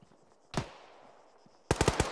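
Machine gun fire in a shooter video game: a single sharp shot, then a close, loud rapid burst of about five rounds, with faint background noise between.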